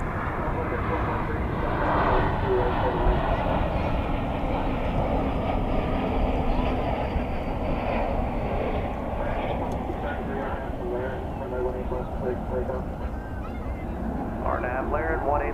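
An American Airlines airliner departing runway 18 left at DFW Airport produces a steady, heavy jet roar that stays loud and continuous throughout, with voices talking underneath.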